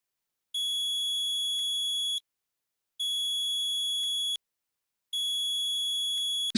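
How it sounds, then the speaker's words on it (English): Multimeter in continuity mode beeping as its probes touch, three long steady high-pitched tones of about one and a half seconds each, separated by short silences. "If the multimeter beeps, it means the probes are connected."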